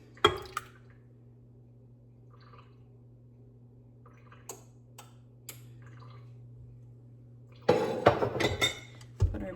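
Three eggs cracked into a mixing bowl for a cookies and cream cheesecake: a few sharp isolated taps and clinks against a low steady hum, then a busier cluster of cracking and shell rattling near the end.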